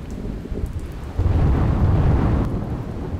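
Heavy downpour in Jamjodhpur, Jamnagar, Gujarat, rushing as a dense, loud wash of rain with a low rumbling swell that grows stronger partway through, and no voices.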